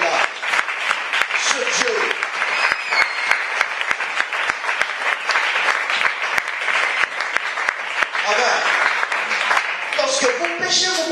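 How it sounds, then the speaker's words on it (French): A congregation at a church healing service applauds in a dense, sustained wave of clapping that fills the whole stretch, with a preacher's voice speaking over it. "Acclame un peu Dieu s'il te plaît. Acclame cet homme-là."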